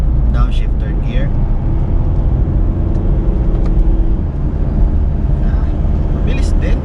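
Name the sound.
2014 Mitsubishi Montero Sport 4D56 engine downshifting to third gear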